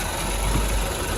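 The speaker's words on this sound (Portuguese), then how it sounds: "O motor ligado aqui" A Ford Ka engine with a worn engine mount idles in a steady, continuous low rumble with an even vibration throughout, close by and fairly loud, with no talking.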